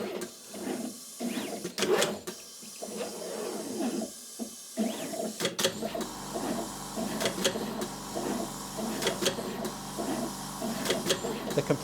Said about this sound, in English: The compressor's used to generate a vacuum to drive the feeders at the back and the vacuum nozzle to pick the parts.